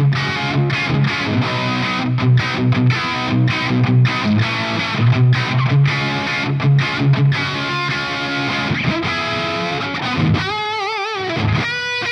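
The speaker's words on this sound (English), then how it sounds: "I'm running the audio from the session into a reverb send that comes out of Logic to the hardware, back in" Audio from a Logic session is routed through an expensive hardware stereo reverb and back in. Dense, continuous music plays loudly throughout, with a brief drop near the end before a final burst.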